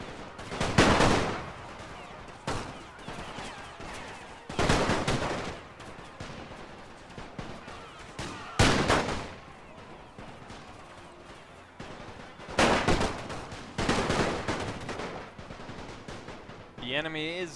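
Repeated booming artillery blasts and rattling gunfire in the World War I video game The Great War, heavy bursts spaced a few seconds apart, loud and close.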